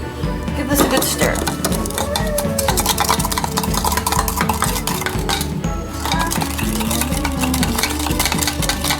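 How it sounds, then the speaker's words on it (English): A seasoning mixture is stirred in a bowl with loud, continuous, rhythmic scraping and clinking close by. "Give this a good stir."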